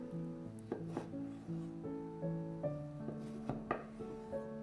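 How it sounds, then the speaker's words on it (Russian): A knife dices a tomato on a cutting board in several irregular strikes, sharp and close, over soft background music. "1 помидор нарезаем."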